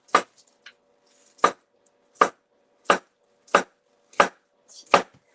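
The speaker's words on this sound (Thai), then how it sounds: "หนาบางตามชอบเลยนะคะ หั่นแนวขวางก็ได้แล้ว" A knife cuts through cucumber on a cutting board for pickles, giving seven sharp, evenly spaced chops about three-quarters of a second apart, close and clear in a quiet room.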